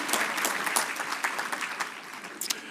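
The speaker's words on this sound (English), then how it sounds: "Clap for yourselves." An audience claps for themselves in a short burst of applause at a Nigerian gathering, a dense patter of many hands that is moderately loud and thins slightly toward the end.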